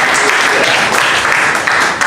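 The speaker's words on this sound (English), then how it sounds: "This is where we all clap" An audience at an English-language comedy showcase breaks into steady, loud applause, dense clapping filling the room without a break.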